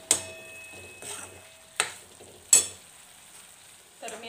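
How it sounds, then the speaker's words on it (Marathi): Ridge gourd pieces sizzle softly in a pan while a spoon stirs them in several short scraping bursts, close and fairly quiet, with no talking. "परत एकदा हलवून घेते."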